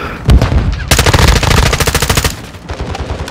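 Call of Duty gunfire, loud and close, with rapid machine-gun bursts rattling in a fast, continuous stream for nearly two seconds between heavier single shots.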